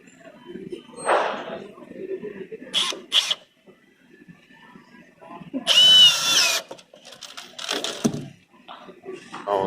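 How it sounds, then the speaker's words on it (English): A Ridgid power drill whirs in several short, loud bursts of varying length with pauses between, close up, with a person talking between runs. "How's the drill? Powerful."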